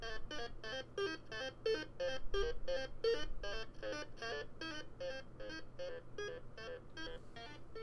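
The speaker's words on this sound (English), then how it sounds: "I could turn on my thingamagoop here if we wanted to have some beeps and boops." A Thingamagoop electronic noisemaker gives off a steady stream of rhythmic chirping beeps and boops, pulsing evenly at close range over a low hum.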